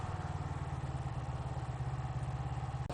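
A 1993 Kawasaki EX250F (GPX250R) motorcycle engine idles close by with a steady, even, rapid low putter and faint mechanical clatter, alone with no talk, until it cuts briefly at the end.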